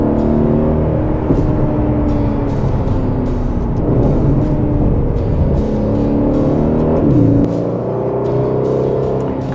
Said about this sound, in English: I hope you can hear that exhaust.